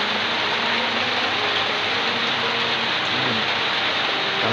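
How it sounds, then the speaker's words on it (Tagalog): Heavy rain pours steadily on a cornfield farm, a dense continuous wash of hiss and patter at constant loudness with no pauses. "Yan, lakas ng ulan ito sa amin."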